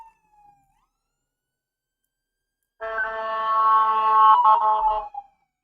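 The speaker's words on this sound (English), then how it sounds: "Yep, we got the sirens." An emergency vehicle siren outdoors rises in from silence, holding a steady, moderately loud harmonic wail for about two seconds before cutting off sharply.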